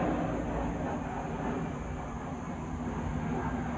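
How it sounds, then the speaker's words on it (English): An airplane passes overhead outdoors as a steady, broad rushing drone that holds at an even level throughout, with no talk over it. "You hear the plane?"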